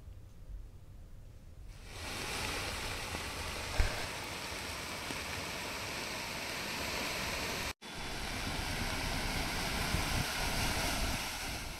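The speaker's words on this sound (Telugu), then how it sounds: "తుపాను ప్రభావంతో భారీగా ఈదురుగాలులు వీస్తున్నాయి" Strong cyclone winds roar near Kakinada and Narsapuram, a broad continuous rush with buffeting gusts on the microphone, rising after a quieter start and briefly dropping out once.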